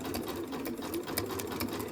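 Sewing machine running a close zigzag stitch on a towel, width 5 and length 1.0, a steady fast whirring chatter of needle strokes at close range with no talk.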